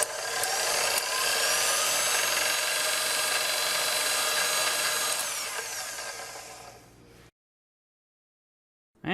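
A repaired KitchenAid stand mixer, previously grinding its gears, runs steadily and loudly with a whirring motor and gear whine for about seven seconds, then cuts off into silence.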